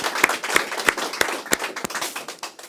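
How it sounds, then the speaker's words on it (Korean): An audience at a lecture on Geumsan ginseng claps in a steady, fairly sparse rhythm, the sharp hand claps tapering off after a couple of seconds. "박수 한번 쳐주세요."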